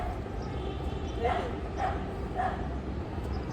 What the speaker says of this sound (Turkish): Havlamış.